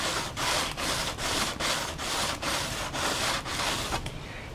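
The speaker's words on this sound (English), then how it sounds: "with some wet sanding here" Wet sanding with a sanding block smooths router burrs from the edges of a routed plastic control panel for a Capcom Big Blue arcade cabinet, a steady rhythmic rasping of about ten even back-and-forth strokes, loud and close, no voices.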